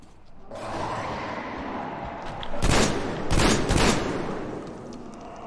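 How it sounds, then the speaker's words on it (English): A mounted gun fires in the post-apocalyptic shooter Metro Exodus, loud sustained automatic bursts in three heavy clusters over a constant roaring rumble, with no voices. "check the mounted gun."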